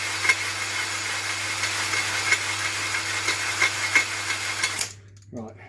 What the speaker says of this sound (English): I'm just going to hone this out a little bit. So this is on speed 1 of the drill.